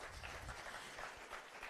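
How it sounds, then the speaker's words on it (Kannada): Crowd applause at a Kannada film pre-release event for Rider, a continuous, fairly faint spread of clapping heard at a distance with no voices over it. "ಅದಕ್ಕೆ ಬರಬೇಕು ಜೋರಾಜ್ ಚಪ್ಪಾಳೆ"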